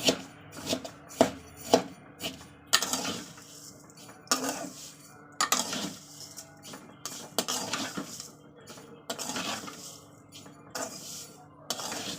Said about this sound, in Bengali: কোনো তেল নয় কোনো ঘি নয় জাস্ট শুকনো খোলায় এভাবে ভেজে নেবেন দু থেকে তিন মিনিট